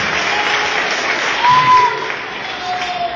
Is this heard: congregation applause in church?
yes